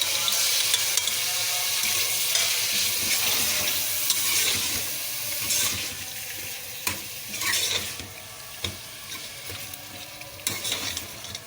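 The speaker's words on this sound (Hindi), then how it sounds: "अभी हम गोश्त फ्राई कर रहे थे तो देखें इसका" Gosht, pieces of meat, frying in a pan, a close, continuous loud sizzle with stirring scrapes and occasional sharp crackles, easing slightly toward the end, no voices.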